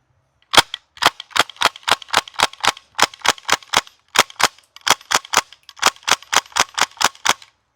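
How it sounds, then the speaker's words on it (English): A VFC PPSh gas blowback airsoft submachine gun fires close up in rapid bursts of sharp, snappy cracks, about two dozen shots in quick, evenly spaced groups with brief pauses between them and no talking. "I'm going to toss that baddie into the PPSH, and we should be ready to run our next set of rounds."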